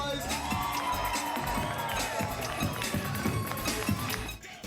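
A lively crowd on Bourbon Street in New Orleans cheers and shouts steadily, with whoops and scattered voices over a dense, loud wash of noise that tails off briefly at the very end.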